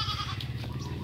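Goats in their pen on a farm give a continuous, close bleat that wavers and holds steady for about a second.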